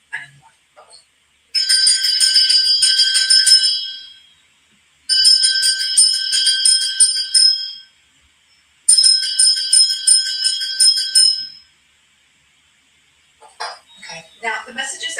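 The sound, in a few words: bell being rung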